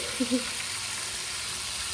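Spicy crispy chicken pieces fry in hot oil as they are turned, giving a steady, even sizzle throughout, with a faint brief voice near the start.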